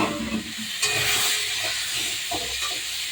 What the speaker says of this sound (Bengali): এবার মাছ ভাজার তেল আছে, এই তেলের ভিতরে আমি আলু কুমড়ো দিয়ে দেবো।